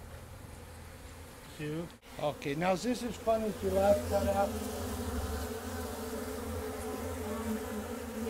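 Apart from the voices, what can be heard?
bees buzzing in a hive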